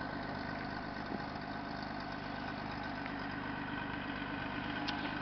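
A car engine with catalytic converters removed idling steadily with a deep, throaty exhaust rumble, constant and even, with no voices.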